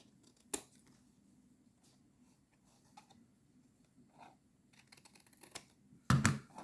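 Scissors cutting pieces at a bevel while assembling a small candy box, with a few sharp isolated snips spread over quiet room tone and a louder crunchy cut at the end.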